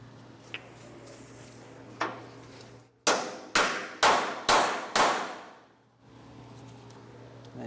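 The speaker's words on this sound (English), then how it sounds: "So we'll get this hammered in place." Five loud, evenly spaced hammer blows ring out close up as a bolt is driven into a shackle strap on a utility trailer, each strike sharp and metallic with a short decay, set against a steady low hum.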